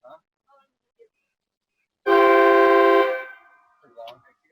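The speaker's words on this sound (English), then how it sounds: "Train horn." A Vevor train horn on a vehicle fires one loud, sustained chordal blast lasting about a second amid a Halloween prank, with brief voices before and after.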